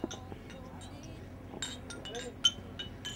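Glasses clink together in a toast at a Christmas hamper prize celebration: several sharp, bright clinks scattered among people talking nearby.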